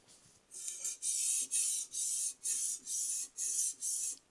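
Knife blade drawn across a finer grit stone on a TSPROF K03 sharpener: eight evenly spaced, close hissing strokes of bright, scratchy grinding, each about half a second long, separated by short pauses.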